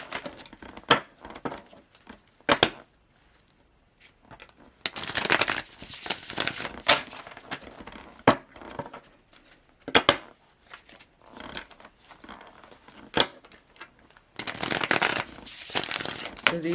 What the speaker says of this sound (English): And I shuffle. And shuffle. And shuffle some more.